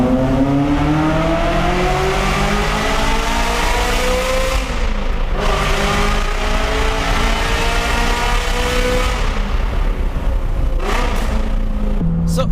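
Ferrari F355 with straight-pipe exhaust revving hard inside a tunnel, a loud, sustained howl that climbs and falls through several sweeps of throttle, echoing densely off the walls with no letup.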